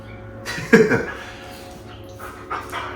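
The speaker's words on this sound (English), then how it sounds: "if you have a husky, or I mean if you have a dog in general, you know, they have their moments when they're just like, oh, I want to play" A husky pants and lets out a short excited whimper up close, breathy and quick, with a brief louder whine near the start and softer panting afterward.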